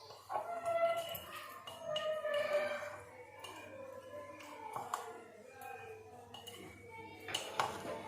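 Salt, chili and turmeric being mixed together in a bowl for homemade korma masala, heard as irregular clinks and scrapes of a utensil against the bowl, moderately close, with no talking.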